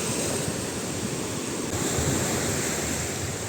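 Sea waves wash steadily onto an Albanian beach in Shengjin, a continuous broadband surf roar with light wind noise, no pauses or voices.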